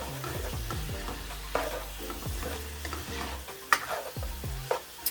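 Steak and black pepper being stirred in a hot pan, with steady close scraping and clacking of the utensil over a continuous sizzle that carries through the whole stretch.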